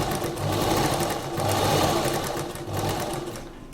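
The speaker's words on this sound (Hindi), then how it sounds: "ये जो टेलर चौक का हमने मार्क लगा लिया था उसके पास इस कपड़े को रखकर सिलाई लगाएंगे।" A sewing machine stitches fabric along a marked line for a colourful neck design, running steadily and close, its motor hum and needle rattle continuous with slight swells, no talk over it.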